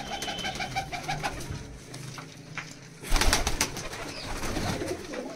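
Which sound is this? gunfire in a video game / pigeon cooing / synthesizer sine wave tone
pigeon cooing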